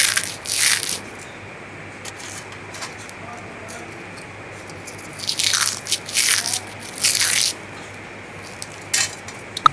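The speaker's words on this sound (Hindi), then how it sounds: "आप इसे तोड़ के भी फ्राई कर सकते हैं या एक बड़ा पापड़ भी फ्राई कर सकते हैं। चलिए आवाज़ सुनते हैं।" Fried homemade wheat flour papad is bitten and crunched close up, a few sharp crisp crunches in bursts separated by quiet chewing pauses, with no talking.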